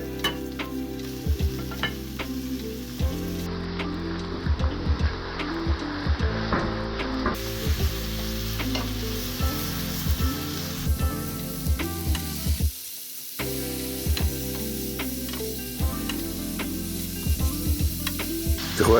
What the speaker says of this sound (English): Saute until fragrant. Then add your sliced mushrooms.